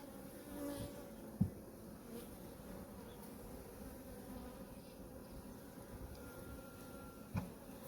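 Steady low buzzing from many honeybees on hive frames during a winter colony inspection fills the clip, fairly quiet and continuous, with a couple of brief knocks.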